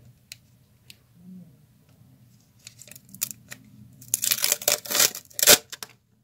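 Paper surprise packet torn open by hand, starting with faint scattered crinkles and building into a burst of close, loud ripping and rustling paper near the end.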